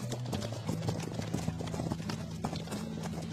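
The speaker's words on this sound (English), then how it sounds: "Dude, those horses are flying." Rapid galloping hoofbeats of horses in the video game Blade Ball, a dense clip-clop rhythm running throughout with game audio layered around it.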